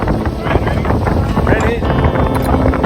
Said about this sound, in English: sailing straight out of the harbour, tacking our way out of the bay